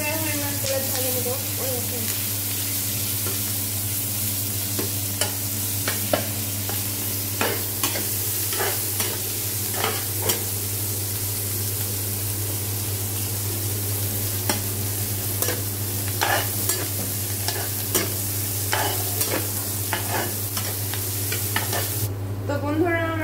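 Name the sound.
garlic, ginger and onion frying in oil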